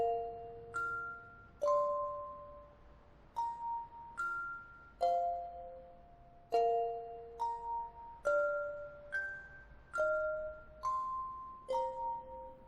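The opening phrase of a song from Undertale played on a bell-like in-game instrument in Sky: Children of the Light, as clear chiming two-note chords struck in a steady repeating beat, ringing out alone.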